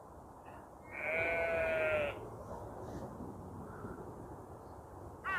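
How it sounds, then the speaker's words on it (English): A sheep near a riverbank bleats once in a long, loud, wavering call, followed by quieter outdoor ambience and a brief second sound at the end. "sheep's coughing its ring up."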